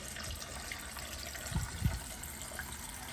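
Cold water runs steadily from the sink faucet in a 2021 Cherokee Black Label RV, a soft continuous hiss with a couple of brief knocks midway, nobody speaking.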